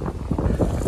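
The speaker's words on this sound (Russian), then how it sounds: "Ветер." Steady wind buffeting the microphone, a loud low rumble throughout with no clear speech.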